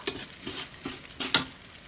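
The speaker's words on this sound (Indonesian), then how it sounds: "hancurin, pecahin nasinya yang menggumpal itu supaya begini" Clumped rice for fried rice being stirred and broken up in a hot pan, several close scraping strokes and taps of a utensil at an uneven pace over a soft sizzle.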